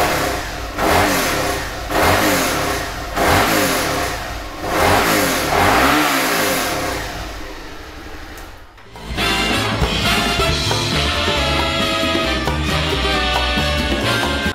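Suzuki SV650X motorcycle engine heard up close and loud: a run of strong throttle revs rising and falling, a brief drop, then the engine catching and running steadily with a rough, continuous rumble.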